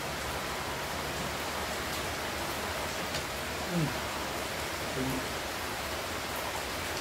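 Steady rain falls outside during a lunch, a constant broadband hiss that runs evenly throughout with no breaks and a couple of faint soft knocks or voices faintly beneath it.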